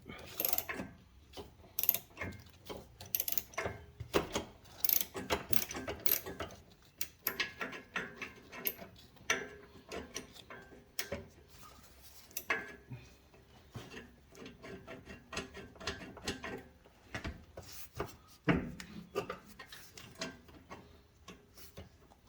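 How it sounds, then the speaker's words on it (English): A ratchet works on the front sub-frame bolts of a 2007–2017 Jeep Patriot or Compass, giving quiet, irregular clicks, clanks and metallic rattles in close bursts throughout. "Gonna be one of those things where you get your ratchet stuck."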